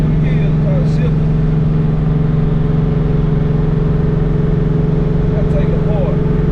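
A V8 Chevrolet S10 pickup engine runs loud and steady nearby with a deep, even drone. A person speaks over it briefly.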